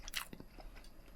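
Teeth bite into crisp, crunchy pork sausage skin close up, giving a quick crackling snap followed by a few soft chewing crunches.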